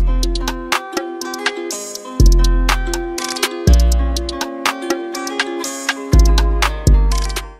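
Charging sound for a blood-red demon arm in Velvet's Annihilating Crash: loud bright ticking and metallic pings over deep booming pulses that swell at intervals, building in layered bursts with no talking.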